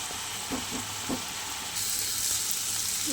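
Snake gourd frying with egg in a pan gives a steady, close hissing sizzle, with a few soft stirring knocks over the top.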